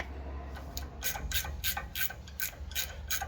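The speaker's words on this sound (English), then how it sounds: "I do know that we have to undo this bolt" A hand ratchet loosens a bolt on a twin I-beam front brake caliper, giving a close run of quick, evenly spaced metallic clicks in bursts over a low background hum.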